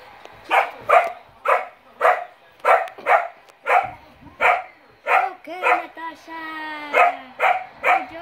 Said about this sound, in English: He's barking because you're running.